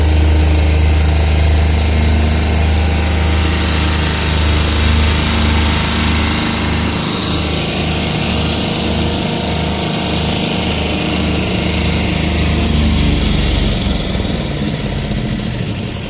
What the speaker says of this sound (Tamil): அதுக்காக இந்த வண்டி பாருங்கள், அழகாக மேடு பள்ளமாக இருந்துச்சுன்னா நேராக இது பண்ணும்.